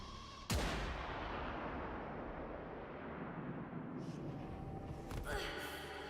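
A single loud gunshot from the Warframe shooter game cracks out close, its blast decaying into a long rumbling tail, with further faint weapon clatter and shots near the end.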